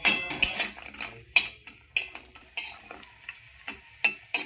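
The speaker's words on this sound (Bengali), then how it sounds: "বড়িগুলো গরম তেলে ছেড়ে দিচ্ছি।" Sun-dried lentil dumplings (bori) frying in hot mustard oil in a wok, with sharp scraping and clinking of a spatula stirring at irregular intervals over a soft sizzle, close and fairly loud, no talking.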